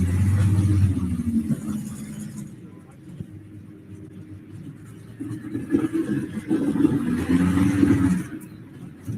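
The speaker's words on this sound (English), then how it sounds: "There goes Jeff McCullough, a tractor called Chaotic." The pulling tractor Chaotic roars down the track at a tractor pull, a heavy rumbling engine that dips in the middle and swells again near the end, with a commentator talking over it.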